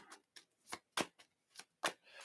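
Tarot cards are shuffled by hand in quiet, sharp bursts, about seven crisp riffles and slaps spaced unevenly with brief silences between, close and faint overall.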